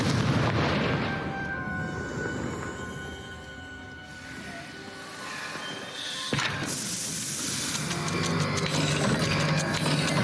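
Blasting-spell explosion in the game Hogwarts Legacy, set in a maze, bursting loudly around six seconds in over a sustained bed of game ambience and shimmering musical tones.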